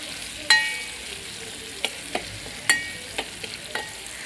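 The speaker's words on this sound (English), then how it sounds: "After addition, stir everything together." Onions and capsicum sizzle steadily in a frying pan while a utensil stirs them, with a few distinct scraping clicks against the pan over a soft continuous fry.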